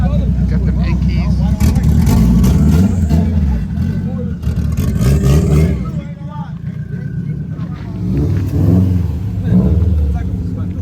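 A turbocharged car's engine revs repeatedly at a Thursday night car meet in Central Florida, loud and close with rising and falling pitch, while a crowd talks throughout.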